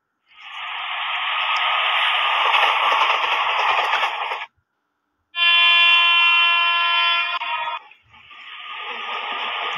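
Two long, loud train horn blasts in an Indian railways train video game, one a broad blaring tone and the other a brighter multi-note chord, separated by a brief silence and heard close up.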